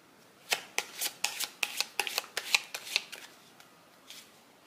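Tarot cards are shuffled by hand in a quiet room, giving about a dozen quick crisp riffling snaps in an even rhythm that slows and thins toward the end.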